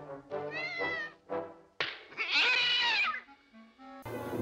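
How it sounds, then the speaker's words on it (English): An indestructible cat named Rhubarb meows repeatedly in a horror comedy film soundtrack, several loud drawn-out yowls with a caterwauling rise, close and clear with a thump and a harsh burst at the end. "an indestructible cat named Rhubarb"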